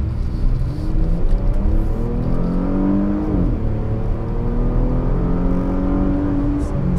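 A 2019 Porsche Panamera with 330 horsepower accelerating on a test drive, heard from inside as a steady engine drone whose pitch climbs, drops briefly at a gear change, then climbs again, loud and continuous.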